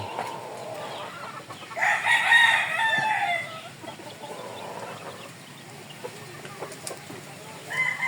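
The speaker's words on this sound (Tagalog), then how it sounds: "Ayan ang mga inahin ko." Chickens cluck and call nearby, with a loud burst of squawking in the middle and quieter scattered clucks around it.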